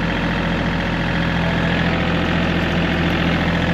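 A tractor engine runs steadily throughout at a low, even idle, used on a property being cleared and cut; the drone is loud and close with no talking.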